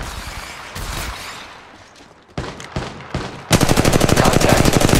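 Apex Legends Mobile gunfire: a few scattered single shots, then a long, loud, rapid automatic burst of evenly spaced shots at close range.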